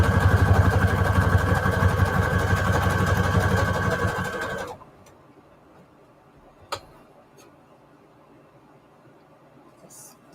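A sewing machine runs a fast, steady, rattling zigzag stitch through fabric scraps for about four and a half seconds, close and loud. It then stops, leaving quiet handling noises and a single sharp click.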